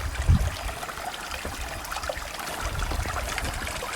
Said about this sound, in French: toujours la petite rivière, ça c'est formidable